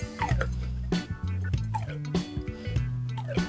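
Oil being pumped inside the front shock of a Mio Gear 125 motorcycle, making repeated close wet squelching and gurgling strokes in a steady rhythm.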